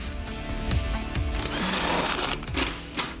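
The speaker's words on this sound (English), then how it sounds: "I'll make some trim lines so we can reuse the plastic shield before cutting it with an air saw." A pneumatic air saw chatters through a lightweight plastic underbody shield from a stock Jeep JK, a rapid reciprocating buzz close up with brief pauses and shifts as the blade follows the cut.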